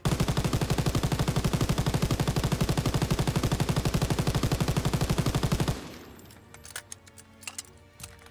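MG42 machine gun in Call of Duty WWII firing one long continuous burst, a rapid, loud, evenly spaced stream of shots for several seconds, then stopping abruptly and leaving scattered softer clicks and impacts.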